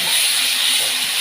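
Curry leaves hitting hot oil for a Kerala-style fish curry give a steady, fairly loud sizzling hiss that runs unbroken from start to finish, close up, with no one talking.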